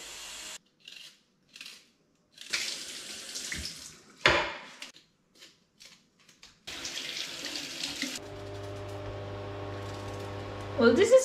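Kitchen tap running water into a cooking pot, a steady close hiss and splash after scattered bangs and handling noises, with a rising tone as the pot fills and brief talk mixed in.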